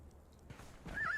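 A horse whinnies in a survival video game, a short rising neigh near the end of the moment over a low, steady ambient bed, fairly close and clear.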